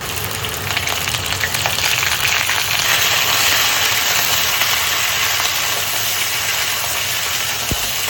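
Drumstick (moringa) pods and potatoes frying in a pan of oil for a fish curry, a steady, fairly loud broadband sizzle holding evenly throughout with a low rumbling undertone and no voices.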